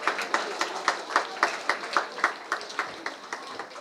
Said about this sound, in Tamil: ஒரு பெரிய கைத்தட்டல் கொடுக்கலாமே, குழந்தைங்களுக்கு இன்னும் உற்சாகப்படுத்தலாம்